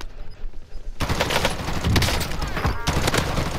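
Rapid bursts of gunfire in a Call of Duty-style match with a Kilo rifle fitted with a Grub blueprint, dense crackling shots running almost continuously after a quiet opening second.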